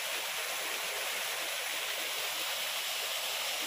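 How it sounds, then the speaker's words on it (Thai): A waterfall pours steadily beside a forest cafe, a constant, even rush of falling water with no voices. "บรรยากาศน้ำตก"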